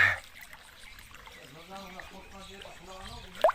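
Floodwater flows through a flooded village in Turkistan, a soft trickling and running of water under a person speaking, fairly quiet and steady.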